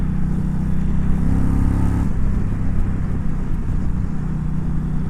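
A 2020 Indian Challenger Darkhorse motorcycle running in 5th gear, with a loud, steady engine drone and rumble and a rise in pitch before settling into an even cruise, no voices over it.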